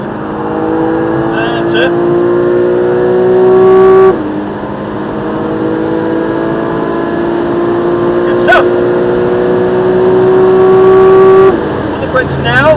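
A race car on the Silverstone circuit during a training session accelerates with a loud, close engine drone that climbs in pitch, dips at a gear change and climbs again, while a driving coach talks over it.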